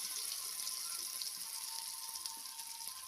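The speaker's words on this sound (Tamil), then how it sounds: "மிக்ஸி ஜாரில் தேவையான அளவு தண்ணி ஊற்றி அதுவும் அலசி ஊற்றிக்கலாங்க." Water is poured into a mixer jar to rinse it while fish curry is being cooked, making a steady, faint, hissing rush that runs continuously without pauses.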